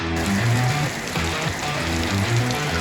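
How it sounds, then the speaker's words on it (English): Steady rain patters densely on a van, a continuous hiss of drops with faint low tones underneath. "The early rain, just the warm-up."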